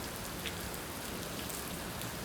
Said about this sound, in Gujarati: મિત્રો અત્યારે પણ વરસાદ જોવો એટલો ફૂલ આવી રહ્યો છે